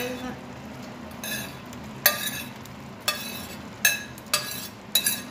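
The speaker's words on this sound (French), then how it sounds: "Je vais rajouter la moitié de mes merguez." Chicken and merguez sausages frying in a pan, a steady low sizzle broken by sharp clinks and scrapes of a utensil stirring against the pan at irregular intervals.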